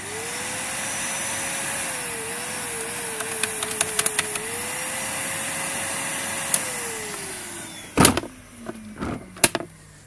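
An old upright vacuum cleaner with an 1100 watt motor runs steadily and loudly on its own, its hum dipping slightly then winding down near the end amid a few clicks and knocks.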